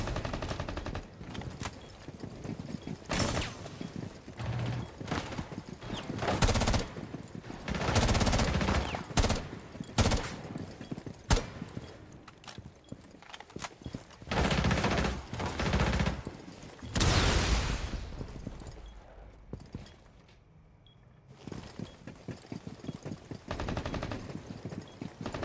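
Rapid automatic gunfire bursts in the tactical shooter Rainbow Six Siege, loud and close, in repeated volleys with brief pauses, one short lull, then more shots.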